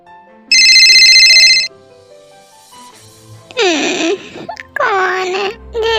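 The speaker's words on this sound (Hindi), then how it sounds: "कौन है जो इतने सुबह सुबह फोन कर रहा है?" A telephone ringtone sounds once in a loud electronic burst, followed by voices talking in a Hindi-dubbed romance drama.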